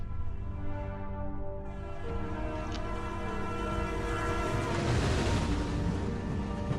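A train rumbles on in Broken Sword 2.5, its horn sounding as a long, loud, sustained tone over the steady rolling noise of the carriage.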